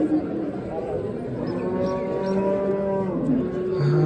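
Cattle mooing at a livestock market in Jizzakh, long drawn-out lowing calls from several cows overlapping through a steady crowd murmur, fairly near and loud throughout.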